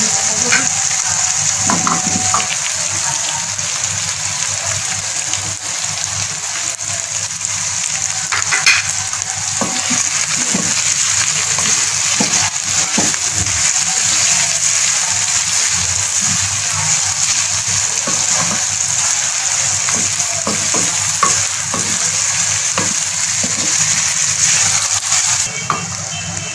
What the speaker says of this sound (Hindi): इसको 2 मिनट के लिए फ्राई करेंगे